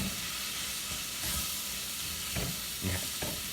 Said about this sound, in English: And we're going to stir it around.